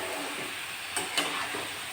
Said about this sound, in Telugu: వేసి ఇది ఒకసారి తిప్పేసి మూత పెట్టేస్తే బాగా మగ్గుతుంది.